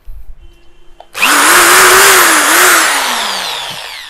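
An OSK8825 710W electric drill with a 13mm chuck switches on after a moment of quiet and runs loud and steady, its whine sliding slightly in pitch as it revs close to the mic.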